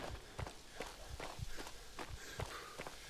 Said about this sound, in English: I really like the sounds. I mean, the footsteps,